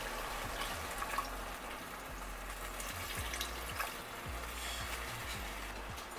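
Broth poured into a pot on the stove makes a soft, steady liquid rush with a faint crackling sizzle underneath, quiet and continuous throughout, with no voices.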